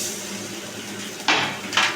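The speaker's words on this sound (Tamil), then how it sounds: "பாருங்கள் நான் 3 மொட்டு உடச்சி ஊற்றிட்டேங்க" Three eggs are cracked and poured into a pan of well-fried onions: two sharp, close knocks against the pan stand out over a steady background hiss.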